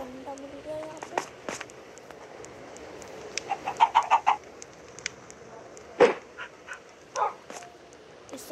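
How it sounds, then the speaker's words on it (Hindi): Minecraft chickens give a short series of clucks under scattered game noises and a few sharper yelps, with a person talking at times. "ये दो मेरी मुर्गियाँ, मैंने उनको स्मोक किया था।"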